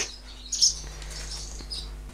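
Birds chirping around a nest inside a workshop, scattered faint high tweets with one brief louder chirp, over a low steady room hum.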